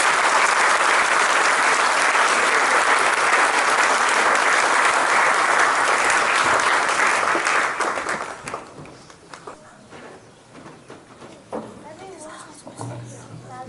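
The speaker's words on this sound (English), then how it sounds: "can I please now give a big applause for all these graduates" An audience applauds graduates at Sri Sathya Sai Baba's 100th birthday celebration in New Zealand, with loud sustained clapping for about eight seconds that then fades into scattered claps and room murmur.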